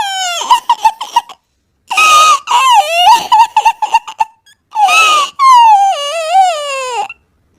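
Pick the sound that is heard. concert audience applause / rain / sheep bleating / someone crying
someone crying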